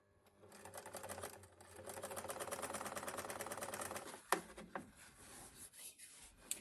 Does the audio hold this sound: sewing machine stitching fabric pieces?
yes